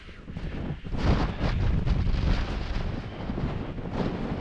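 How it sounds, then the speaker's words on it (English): Strong gusts of wind at a wild campsite with a tent in the Lake District buffet the microphone in rumbling, uneven surges that rise and ease without a break. "these gusts were coming out there, it nearly blowing off my feet"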